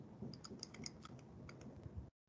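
Quick bursts of typing on a computer keyboard during a math class, with clustered key clicks over a low room hum before a sudden cutoff.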